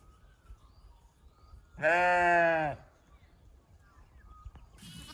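A lamb on a farm gives one clear, loud bleat lasting about a second amid quiet outdoor background, with a brief burst of other noise near the end.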